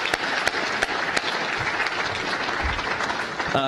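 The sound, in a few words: audience applause for Assemblyman Gray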